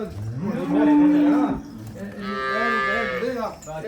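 Cattle on a Malwa farm in Punjab, buffalo or cow, give two long, loud, close moos in a row, each a drawn-out bellow, with no talk over them.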